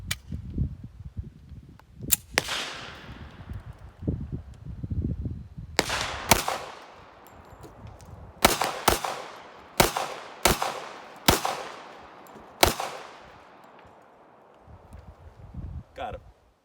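A 1911 pistol with rubber grips fires .45 ACP rounds from a seven-round single-stack magazine, sounding as about eight sharp, loud reports in an irregular string, each with a short ringing tail, and handling noise between shots.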